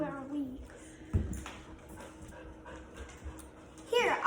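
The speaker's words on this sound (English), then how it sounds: "our dog's trying to play fetch with us" A dog excited over a game of fetch pants and whimpers close by with soft, irregular breaths and high whines, under a voice reading aloud indoors.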